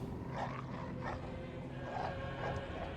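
Dogs in the video game Bloodborne bark and growl in rough, repeated bursts at moderate distance, overlapping into a low snarling clamor with no talk.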